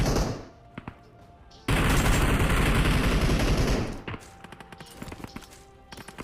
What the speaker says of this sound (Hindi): भाई साहब सुन रहे हो कितना फाइटिंग का आवाज आ रहा है